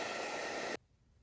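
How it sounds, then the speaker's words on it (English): A heat gun blows a steady, loud broadband whoosh while warming plastic trim on a 1984 MK1 Volkswagen Rabbit/Golf GTI, then cuts off abruptly partway through, leaving only faint room hiss. "I've also been told that heat guns will sometimes bring the oils on these plastic bits back to the surface."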